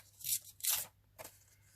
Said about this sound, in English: tear off a bit of this collage paper